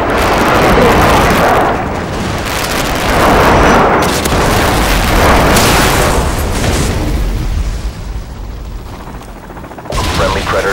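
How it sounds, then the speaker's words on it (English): Airstrike explosions in Call of Duty: Modern Warfare 2 boom in heavy, rolling bursts that overlap into a continuous loud rumble, easing briefly before a final blast. "Friendly airstrike inbound."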